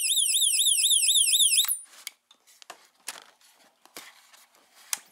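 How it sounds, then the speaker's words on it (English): X-Pest AR10 indoor ultrasonic rodent repellent in test mode emits a rapid, high, warbling chirp for under two seconds, followed by soft handling clicks and rustles nearby. "you can hear that little chirping sound"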